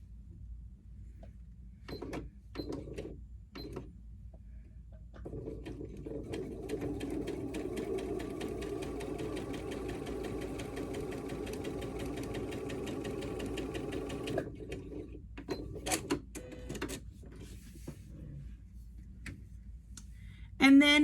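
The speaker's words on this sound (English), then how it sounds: "line this up with your 1/4 inch foot on your sewing machine, and you're gonna stitch straight through" A sewing machine with a quarter-inch foot stitches fabric steadily for several seconds with a fast mechanical whir, preceded and followed by clicks and handling noises.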